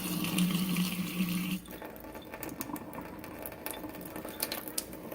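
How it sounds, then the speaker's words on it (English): Tap water pours steadily into an LG dishwasher being checked for a fill error, a loud continuous rushing for about a second and a half, then dropping to a quieter, lighter trickle with small splashes. "So now I'm going to turn the water on."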